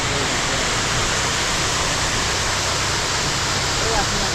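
Water falls steadily at a waterfall among the scenic surroundings of Chitrakote near Jagdalpur, Chhattisgarh, giving a loud, unbroken broadband rush that fills the whole clip.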